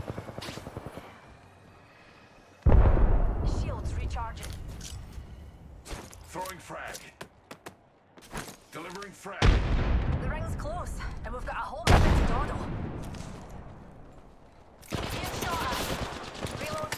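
Gunfire from the Apex Legends video game plays in loud repeated bursts, with weapon blasts, explosions and impacts coming in clusters between quieter stretches and bits of game audio.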